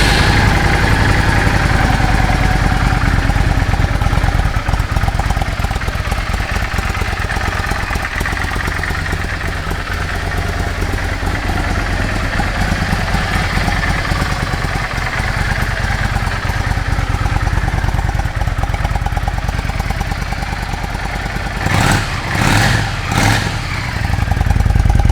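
A 2004 Yamaha V Star motorcycle engine runs close and loud at a steady, throbbing idle for the whole stretch, with a few short sharper bursts near the end.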